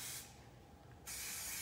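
Aerosol hairspray such as Formula 18 or a dry spray hissing onto short curly hair in two steady bursts, a brief pause between them, loud and close with no talking.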